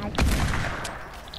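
Gunfire in the Fortnite video game: a burst of shots near the start with a rolling fusillade of reports fading across the moment, fairly close and dense, with no speech over it.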